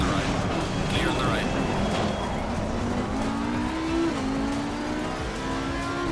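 An Audi R8 LMS Evo 2 race car drives on track in Assetto Corsa Competizione, its engine droning loud and constant with rising and falling revs, other cars close by, and tyre noise throughout.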